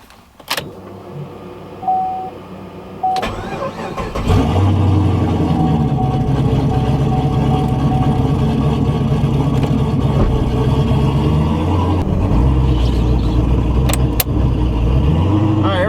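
A car with a TH400 automatic transmission pulls in first gear, a loud, close, steady engine drone with a whiny tone, after a few clunks and a short rise at the start.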